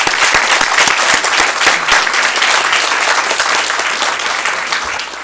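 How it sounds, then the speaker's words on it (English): Sustained applause from the audience at a county school board meeting, many hands clapping densely and loudly with a few sharper individual claps, tapering slightly at the end. "I'd like to give you all a round of applause because you did it"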